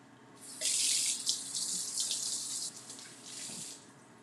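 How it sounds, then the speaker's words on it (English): Running tap water splashes steadily into a sink as hands are washed while cooking beef bacon, a close, loud gush lasting several seconds with slight changes in flow. "Wash my hands again."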